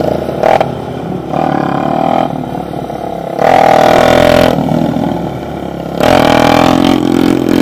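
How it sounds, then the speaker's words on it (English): A dirt bike revving hard while being ridden in wheelies, loud and close, its engine surging in repeated bursts with short drops in between. "First wheelies of the day for Billy."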